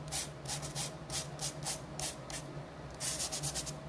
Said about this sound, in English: we are going to sand some of that, give it a little texture and dimension.